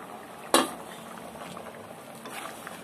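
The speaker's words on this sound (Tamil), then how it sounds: "சல சல சலன்னு கொதிக்குது." Chicken curry gravy in a pot bubbles steadily at a low simmer, a soft continuous gurgle, with one sharp clink of metal near the start.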